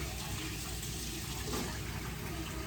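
A kitchen tap runs steadily with a constant hiss of water, close and fairly loud, left on to heat up.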